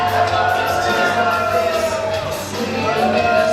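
Wrestling crowd at an indie show cheering loudly for the wrestler TJP, a sustained, dense roar of voices with scattered shouts and whoops, close and continuous with a brief dip midway.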